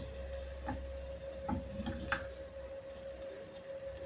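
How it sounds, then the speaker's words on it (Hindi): Garlic and ginger fry in a clay pot with a faint, soft sizzle and occasional light stirring clicks over a steady background hum. "लहसुन अदरक हमारा फ्राई हो चुका है"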